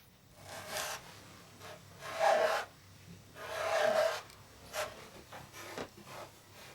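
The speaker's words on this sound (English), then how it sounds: "mixture of raw lacquer and tonoko, a fine-grained clay powder, is rubbed and worked into the hemp cloth, pressing it firmly in" A mix of raw lacquer and fine clay powder is rubbed and pressed firmly into hemp cloth, giving several soft rasping strokes that swell and fade in uneven bursts, close and fairly quiet.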